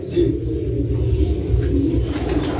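Big Siraji racing pigeons coo in a low, steady rumble inside a loft, heard up close while people speak.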